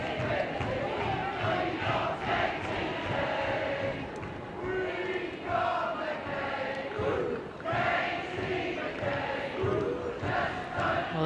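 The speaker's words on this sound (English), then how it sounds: "Well, the crowd here still in full voice." Football crowd at a women's League Cup semi-final between Arsenal and Manchester City, a dense, continuous roar of voices and chanting filling the stadium, steady and loud throughout with small swells.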